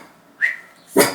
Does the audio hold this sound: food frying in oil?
no